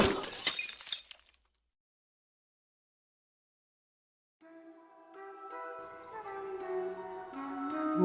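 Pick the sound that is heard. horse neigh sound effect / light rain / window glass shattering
window glass shattering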